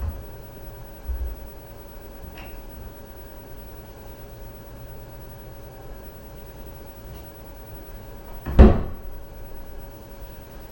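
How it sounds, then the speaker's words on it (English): A kitchen cabinet door fitted with a soft-close upgrade is slammed shut once near the end, a single muffled thud standing out against a quiet room after a faint earlier knock. "let's see how loud I can get it to register if I was actually intentionally trying to slam the door"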